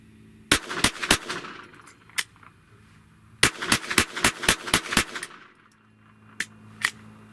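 A Glock G44 pistol fires a magazine at an outdoor range: two sharp shots, a pause, then a quick run of about seven loud cracks, followed by a couple of fainter shots.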